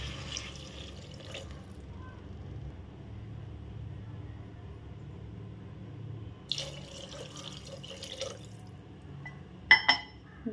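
Water splashes and pours briefly into a cooking pot, then quiet background hum before another pouring burst and a couple of sharp clinks near the end.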